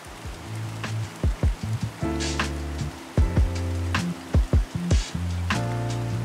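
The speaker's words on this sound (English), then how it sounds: "It rained a lot this month." Steady January rain hisses on a surface, with repeated plinking drips and tonal splashes striking close by throughout.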